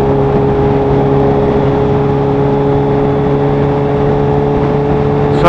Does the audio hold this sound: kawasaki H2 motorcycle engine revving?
yes